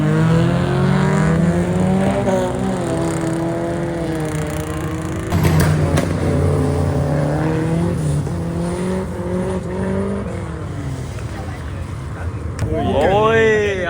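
A Honda Civic FN2R engine revs repeatedly at a night car meet, its pitch climbing and falling in sweeping rises into the high-rpm VTEC range, loud and close, with people talking underneath.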